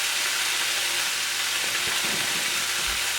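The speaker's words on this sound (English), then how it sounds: "we just want to stir this up till it becomes fragrant. Which doesn't take long in this hot pan." Ginger and aromatics sizzle steadily in a hot pan as they are stirred, a dense continuous hiss with faint scraping underneath, close and fairly loud with no voices.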